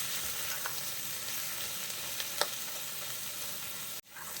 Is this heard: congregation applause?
no